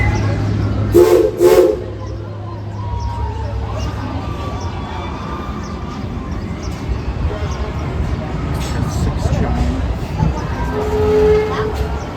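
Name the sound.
steam locomotive whistle, CP&LE #44 Judy K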